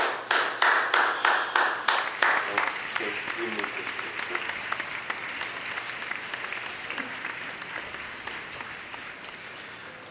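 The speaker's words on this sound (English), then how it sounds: "Now, everybody give a round of applause for Victor Frankenstein." Audience applause at a talk show after a Frankenstein interview segment: a few sharp, rhythmic claps swell into a steady wash of clapping that slowly thins, with a voice speaking over it.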